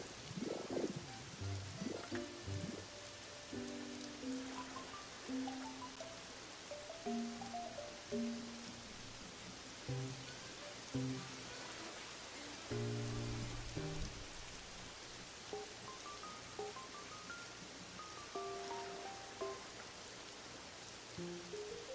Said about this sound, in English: How do I make it stop raining?